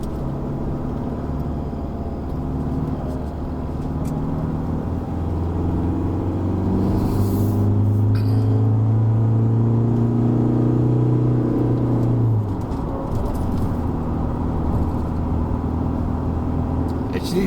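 A 2021 Isuzu D-Max X-Terrain truck climbs a winding mountain road in third gear, its engine droning and rising in pitch under load before easing off, heard from inside the cabin as people talk.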